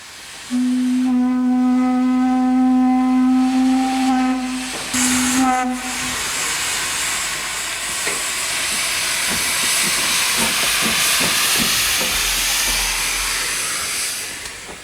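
A steam locomotive whistle blows at a Great Western Railway depot, then loud steam hisses and rushes for a long stretch, with rhythmic chuffing underneath, close and powerful.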